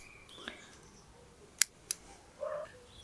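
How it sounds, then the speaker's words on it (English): Sharp scissors clipping Chinese elm cutting branches: two crisp, close snips in quiet surroundings, with faint rustling of leaves before and after. "Use sharp scissors so you don't get a squashed end"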